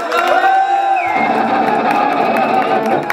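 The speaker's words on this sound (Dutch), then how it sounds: "Applaus voor de moeder van Julia." Concert crowd at a farewell show applauding and cheering, a loud, continuous roar of clapping and whoops that swells partway through, with sustained musical tones ringing beneath.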